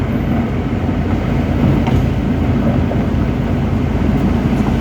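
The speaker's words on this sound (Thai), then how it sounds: "เห็นบ่รถไฟเมื่อกี้นี่" A train rolls past close by in Thailand, a loud, steady rumble and rattle that fills the whole stretch without a break.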